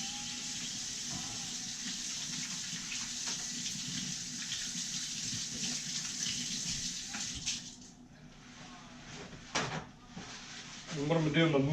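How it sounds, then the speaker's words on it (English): A kitchen tap runs steadily while hands are washed under the water, a continuous close rush that shifts and splashes before stopping, followed by a brief clatter and a voice at the end. "let me wash my hands real quick"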